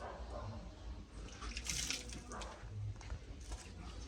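Running water splashes steadily from a tap as a hot pepper is rinsed outdoors during curry goat cooking, a continuous mid-level wash with small splashes and drips.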